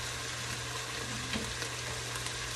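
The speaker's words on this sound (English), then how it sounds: "And I'm going to go ahead and saute these down some." Vegetables seasoned with adobo and black pepper sauté in a cast iron Dutch oven, giving a steady, even sizzle and crackle that holds at a constant level throughout.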